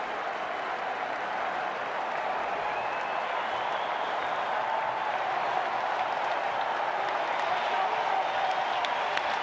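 A packed baseball stadium crowd cheering and applauding during a Blue Jays at Cubs game, a continuous loud wash of roaring and clapping that holds steady without a break.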